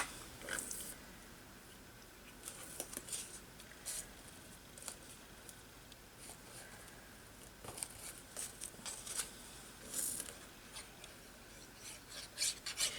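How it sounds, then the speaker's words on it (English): Paper pieces are rubbed and pressed down by hand while being glued onto a craft collage, quiet scattered rasping and scuffing strokes in short irregular bursts. "I'm going to glue those down"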